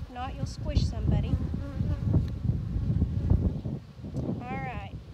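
Honey bees buzz steadily around an open hive box, a close, dense drone with individual bees whining past, while a person talks over the hum.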